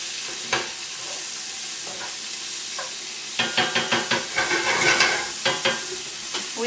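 Vegetables and meat sweating in a very hot pan, a steady sizzle with a run of rhythmic scraping stir strokes close up, no talk.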